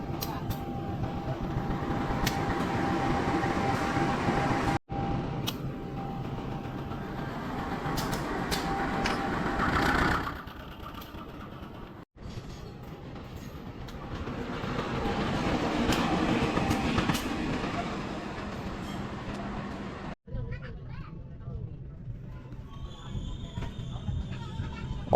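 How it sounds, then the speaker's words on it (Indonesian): Passenger train stopped at Kertosono station while its locomotive is changed, a steady loud rumble and hiss of rolling stock with brief clanks, fading and swelling over time, ending in quieter background hum. "Ini adalah proses pergantian kepala kereta"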